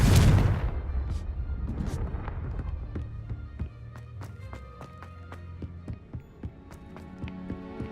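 Confringo blasting spell going off in the game Hogwarts Legacy, a loud explosive boom at the start that decays into rumbling, followed by scattered light taps over background music.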